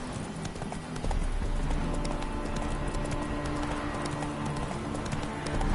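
A horse trotting in The Witcher 3, its hoofbeats a steady, close clip-clop rhythm that carries on without pause over a constant background ambience.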